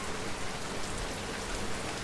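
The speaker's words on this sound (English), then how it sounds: "it seems to be getting heavier with the rain" Steady rain falls heavily and evenly, a dense continuous hiss of drops on surfaces with no pauses and no voices over it.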